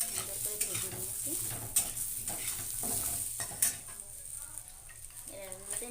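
Mango pieces frying in a pan for a chutney, with steady sizzling, repeated stirring scrapes and occasional utensil knocks, close and clear, with a faint voice briefly in the background.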